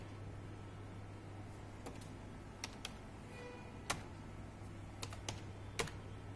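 Quiet, scattered keystrokes on a computer keyboard, a handful of soft clicks in an irregular rhythm over a low steady hum.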